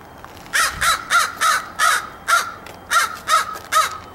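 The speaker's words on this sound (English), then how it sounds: "Hi, bird." A crow caws loudly and close by, about eleven harsh calls in steady evenly spaced pairs over a quiet background.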